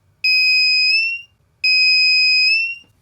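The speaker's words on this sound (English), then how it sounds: "See? Longer beep." Two long electronic beeps from a homemade prank circuit, each a piercing steady tone lasting about a second with a short gap between, loud and alone.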